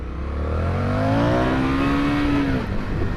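A deep twin-cylinder engine on an Indian FTR 1200 motorcycle revs hard and climbs in pitch, rough and throaty, then eases off; loud and close with no talking.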